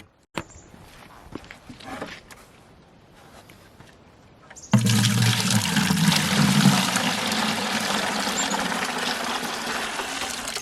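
Water rushes steadily into and around a sap collecting bucket being washed out in a maple-syrup shed, a loud broadband splashing that begins abruptly after a few seconds of quiet handling clatter and continues unbroken.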